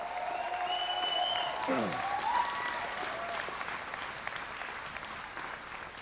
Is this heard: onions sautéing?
no